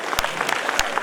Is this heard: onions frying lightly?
no